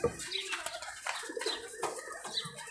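A male Giribaz high-flyer pigeon in Rajshahi gives brief rapid wing flaps and soft coos, close and intimate, in short clustered bursts.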